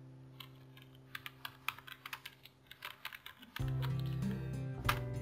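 Typing on a computer keyboard while filling in a freelance profile, a run of quick, close, uneven key clicks that then continues against a louder steady background hum, no voices.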